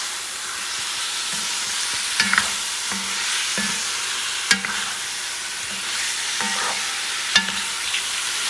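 Turkey necks frying in a pot for a fricassee, with a steady sizzle and repeated spoon scrapes and knocks against the pot as they are stirred, close and fairly loud.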